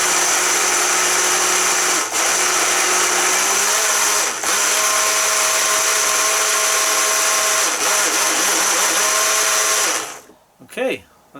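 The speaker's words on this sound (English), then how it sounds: "Definitely crushing the ice in there, you can hear it." A Breville Blend Active blender crushes ice in a loud, steady, close whir with gritty rattling and a few brief dips, then cuts off sharply near the end, followed by a short voice.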